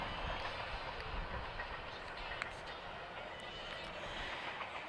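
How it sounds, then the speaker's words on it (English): A train passes near a baseball field during a minor league game, a steady broad rumble of rail cars rolling by with faint clatter throughout; no horn blast stands out clearly. "the train has gone through now"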